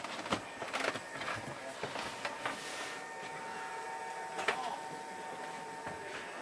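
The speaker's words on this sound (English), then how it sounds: "You hear whirring? That's the Dometic fan in the roof." A Dometic roof fan in a VW campervan runs with a faint, steady whir and thin tonal hum, overlaid by scattered light clicks and knocks nearby.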